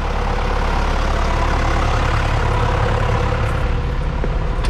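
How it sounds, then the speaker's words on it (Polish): A tractor engine runs steadily at close range, a loud, continuous low rumble with an even idling drone throughout and no talking. "Czekaj, go ciągnikiem odsunę."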